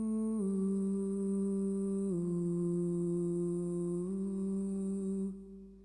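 A lone sustained voice run through a TC Helicon Voicelive 3 with reverb and no harmony, holding long steady tones that shift pitch a few times before a short reverberant tail.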